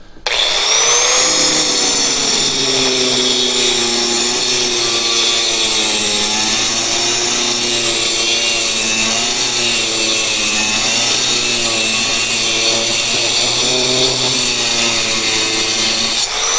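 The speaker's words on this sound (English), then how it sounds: "It's just 4-inch grinder with diamond on it." A 4-inch angle grinder fitted with a diamond blade cuts sandstone, making a loud, continuous high whine. The pitch wavers as the blade bites and eases, then the motor spins down at the end.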